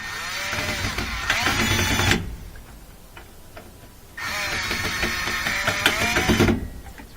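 Power drill tightening small screws on a Kenmore top-loading washing machine, two sustained whirring bursts of about two seconds each separated by a quiet pause, close and fairly loud.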